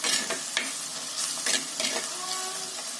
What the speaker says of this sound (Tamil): மண் சட்டின்னு தானே நான் ஏன் கிண்டிகிட்டே இருக்கேன்னா சீக்கிரம் தீஞ்சிடும்